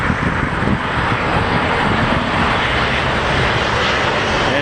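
A Hainan Airlines airliner arriving at O'Hare airport from Beijing, a loud continuous broadband engine roar that holds steady throughout with no talk.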